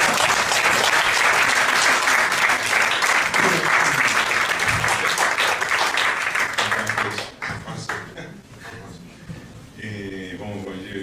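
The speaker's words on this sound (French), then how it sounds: "Javier, Victoria, on peut les applaudir à nouveau." Audience applauding a film team at a screening event in Barcelona, dense sustained clapping at close range that thins and fades after about seven seconds, with some voices in the mix near the end.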